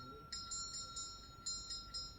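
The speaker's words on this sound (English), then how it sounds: "not without pointing out how loud the bell is" A shop door bell in a TV episode rings in bright, metallic repeated dings, about seven strikes in quick uneven succession, loud and alone.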